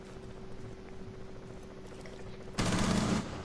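Gunfire in Rainbow Six Siege: a sudden loud burst of rapid shots near the end, following a quieter stretch of low game ambience with a steady tone.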